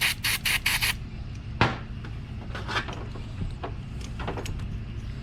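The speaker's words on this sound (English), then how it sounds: "what I'm going to do, a little QV electric cleaner," Electric contact cleaner sprays onto Seadoo parts in four short, sharp hissing bursts at the start, followed by scattered small clicks and taps of handling at a moderate distance.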